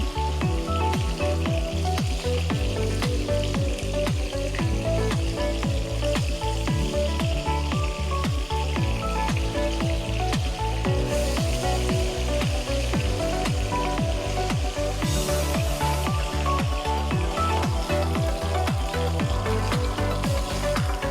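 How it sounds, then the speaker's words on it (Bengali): Bhola fish pieces sizzle and crackle steadily in hot soybean oil in a kadai, turned over partway through; a dense, continuous frying hiss, close and loud throughout with no talking. "মাছগুলো আমি অন্য পিঠ উল্টে ভেজে নেব।"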